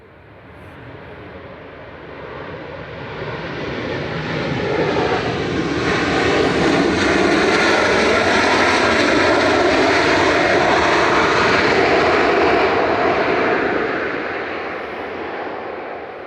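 A Ryanair Boeing 737-800 arriving at Manchester Airport from Belfast, its jet engines building into a loud, sustained roar that peaks midway and holds before easing slightly, with no voices over it.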